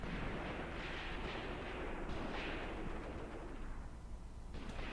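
Artillery and machine gun fire rumble from a battle in the war game Graviteam Tactics, a dense, continuous low roar of distant firing with bursts blending together and no speech.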